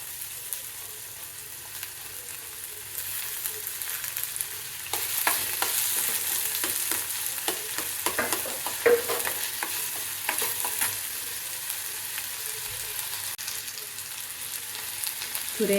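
Tomato goes into a pan of frying drumstick pieces with a sizzle that jumps louder partway through. Steady stirring scrapes and clatters follow, with no speech over them.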